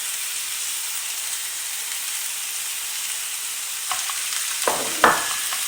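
Ground lamb fries in a pan with a steady sizzling hiss, joined near the end by a few louder scraping stirs as the meat is broken up among onions.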